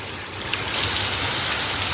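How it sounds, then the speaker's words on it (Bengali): Heavy rain with large hailstones falling in Kolkata makes a steady, dense wash of noise, with a few sharp impact ticks early before the downpour swells slightly louder and holds, close by, with no voices. "দেখো কি বৃষ্টি হচ্ছে"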